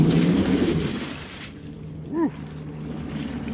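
A homemade 2.5 kW electric outboard motor run at full throttle churns water in a loud, rough wash for over a second. It then drops to a quieter steady hum, and a short vocal whoop breaks in near the end.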